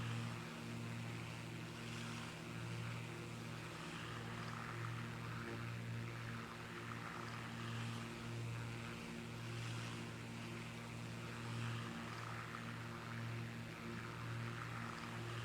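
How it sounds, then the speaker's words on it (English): A small propeller plane with floats, a modern Caravan in Microsoft Flight Simulator 2024, drones with a steady low engine hum and a faint pulsing throb, moderately loud and continuous with no speech. "Hello, little plane."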